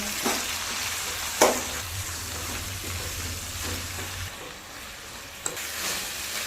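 Drumstick leaves sauté with salt in a pan over a medium stove flame, giving a steady soft sizzle broken by a few sharp scraping stirs.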